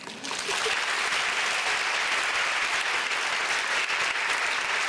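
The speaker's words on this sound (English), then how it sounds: "Could we applaud them once?" Sustained applause from a large audience at a college undergraduate commencement ceremony, dense and steady for the full stretch after a quick swell at the start.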